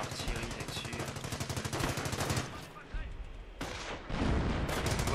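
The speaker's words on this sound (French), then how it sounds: "Il frappe l'artillerie là-dessus." Artillery and gunfire in the World War II strategy game Company of Heroes, a dense barrage of rapid booming shots and blasts that runs loud through most of the stretch, drops off briefly and then surges back.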